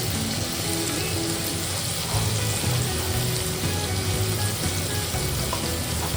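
Chopped onion, garlic and capsicum fry in hot oil in a pan, a steady close sizzle with soft clatter and stirring noises mixed in, no one speaking.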